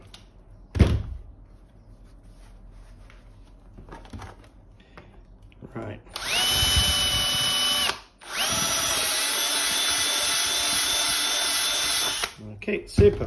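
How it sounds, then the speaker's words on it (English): A power drill fitted with its largest bit, the biggest that fits the chuck, bores a hole for a home-made bike-maintenance air compressor, running loud and steady for about six seconds with a brief pause, after a few knocks and a short spoken word. "this is the biggest drill bit you're going to need"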